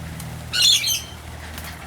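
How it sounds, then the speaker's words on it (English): A currawong gives one loud, harsh call lasting about half a second, close by against quiet outdoor background noise. "That bird there is a currawong."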